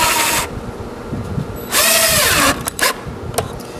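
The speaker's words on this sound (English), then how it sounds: "So I'm just tacking it in with pocket screws." A power drill drives pocket screws into the wooden porch of a purple martin birdhouse, with two loud close bursts of whirring that rises and falls in pitch and a few short clicks in between.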